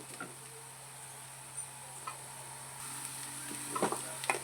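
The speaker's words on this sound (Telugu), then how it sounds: "ఇదే కడాయిలో కొంచెం ఆయిల్ వేసుకోవాలండి పచ్చిరొయ్యల్ని మనం మగ్గ పెట్టుకోవాలి" Raw prawns sizzle and fry in a little oil in a kadai, with a faint, steady crackle and occasional soft stirring taps. No voices are present.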